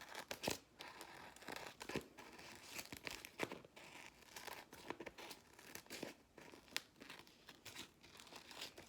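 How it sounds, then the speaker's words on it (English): Scissors snipping and crinkling through excess clear tape and contact paper around a sun catcher frame made with natural materials, a steady run of close, rustling crackles and cuts with no talking. "you can take a pair of scissors and just cut off that excess tape or excess contact paper around your frame"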